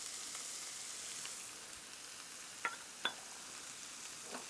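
Chicken teriyaki stir fry with bell pepper and garlic sizzles steadily in the pan, a soft hissing crackle with a couple of sharp clinks as the food is stirred.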